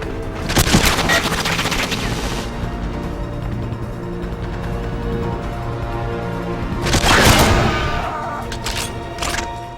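Heavy automatic gunfire from a powerful weapon in a St. Petersburg level of a video game, with loud rapid bursts near the start and again near the end, over continuous rumbling booms and background music.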